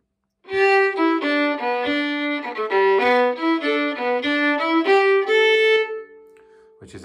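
Third phrase of the hornpipe Master Shanley's, played as a single continuous melodic line on a solo instrument, close and clear, ending on a held note.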